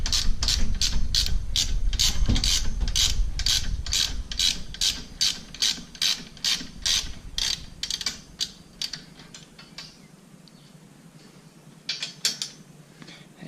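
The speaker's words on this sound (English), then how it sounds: "this is a 12mm socket that I'm using to take that off." A 12mm socket on a hand ratchet loosens a bolt from the side panel of a Kubota L4060 tractor: a fast, even run of close, loud clicking pawl strokes that slows into scattered clicks and pauses near the end, no talk.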